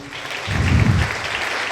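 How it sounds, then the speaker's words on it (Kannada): Audience applause at an event, a burst of clapping from a crowd that swells after a brief lull and then carries on steadily at a moderate level, with no talking. "ದಯಮಾಡಿ ನೀವೆಲ್ಲರೂ ಕೂಡ ನಮ್ಮ ದೇಶಕ್ಕೋಸ್ಕರ ಒಂದು ಜೋರಾದ ಚಪ್ಪಾಳೆ ಬರಲಿ"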